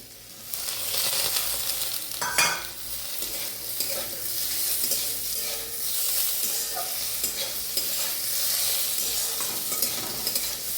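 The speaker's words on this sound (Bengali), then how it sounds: "ফ্রাইতে বেগুন আর পেঁয়াজে।" Eggplant and onion with chili fry in a little fish oil, sizzling steadily in the pan while a utensil stirs and scrapes now and then, close and clear with no talk.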